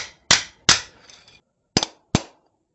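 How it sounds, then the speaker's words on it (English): Four sharp metallic hammer strikes ring out close by, unevenly spaced, each with a brief clanging decay and a faint rattle between, as a metal gate hinge part is hammered back into place. "I just got to hammer it back in place."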